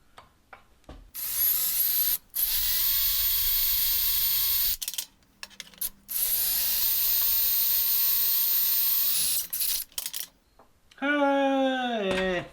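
Steady grinding whir of a hand drill biting into scrap metal for a forged tap wrench, in long stretches with pauses, then a brief squeak at the end.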